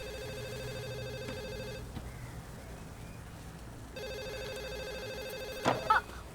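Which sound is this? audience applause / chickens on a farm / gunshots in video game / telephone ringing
telephone ringing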